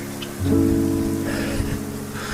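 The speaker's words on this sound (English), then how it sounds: "It's raining." Steady rain falls on a surface at Whangārei Falls, New Zealand, a continuous hiss with a low hum underneath, no talking.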